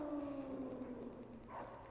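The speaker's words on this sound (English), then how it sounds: "Alright, so we can hear some wolves in the distance." Wolves howl far off in Metal Gear Solid, a faint drawn-out falling wail with a second cry rising near the end against a quiet backdrop.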